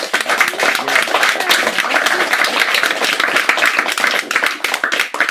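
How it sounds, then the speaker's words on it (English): A live audience at a hybrid poetry reading breaks into steady, dense clapping that stays loud and continuous throughout, with a few faint voices underneath. "Let's give him a round of applause."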